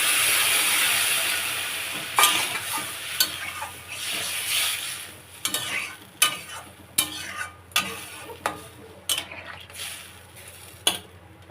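Potatoes and crab in a spice masala cook in a pan for a spicy crab curry, with warm water added; a steady frying sizzle runs throughout, broken by repeated sharp clinks and scrapes of a spoon stirring against the pot.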